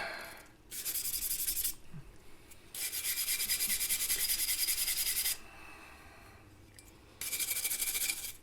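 A steel wire brush scrubs a Snap-On No.71M ratchet in three long, loud bursts of dense, hissy back-and-forth scratching. Short quieter pauses separate the bursts, and no one speaks.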